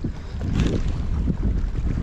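Steady, rumbling wind buffets the microphone outdoors while fishing in Salalah, Oman, a low roar with gusty swells throughout and no talking.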